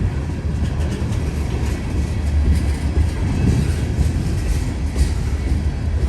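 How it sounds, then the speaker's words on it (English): A long freight train rumbles steadily past at close range, a string of ethanol tank cars followed by a covered hopper and a spacer car, its wheels clacking in a continuous heavy roll with no voices over it. "Oh, here comes the end of the train."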